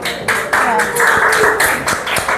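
Audience clapping in a classroom teaching session in Indonesia, a loud steady patter of many hands filling the whole short stretch with no pauses.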